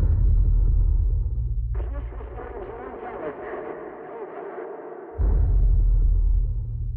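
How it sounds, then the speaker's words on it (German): Radio transmission feedback in a film trailer: a low droning hum breaks into a harsh, buzzing crackle of static for several seconds, then the heavy hum returns, loud and without talk. "Wir haben Rückkopplungen."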